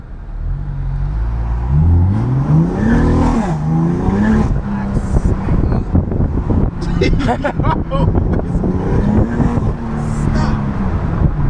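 A 700 hp BMW F80 M3 with its S55 engine running on E85 revs hard from inside the cabin, the exhaust rising and falling through loud, sustained pulls with crackles, while wind rushes past and voices talk underneath.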